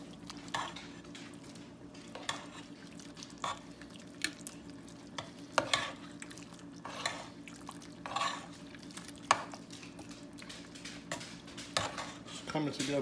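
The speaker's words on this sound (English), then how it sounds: "give that a stir." A spoon stirs three bean turkey chili in a pot, making soft scraping swirls and sharp metallic clinks against the pot's side at an irregular rhythm.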